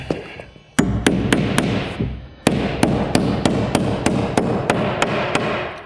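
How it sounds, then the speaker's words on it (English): A hammer drives nails into plywood wall sheathing on a framed wall, loud sharp evenly spaced blows in two runs, the second a long steady series of about a dozen strikes, no talking. "We're looking perfect, and we'll nail this off."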